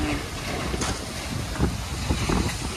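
Strong wind buffets the microphone outdoors, a loud, roaring rumble with gusty surges and constant noise like rushing air or surf, with no talk over it.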